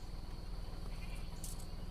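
A steady bleating drone from a goat, close and continuous, over a constant background hum.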